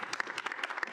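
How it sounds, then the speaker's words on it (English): Brief round of applause from a student senate audience, scattered individual claps at moderate distance over about a second. "If we could get a round of applause."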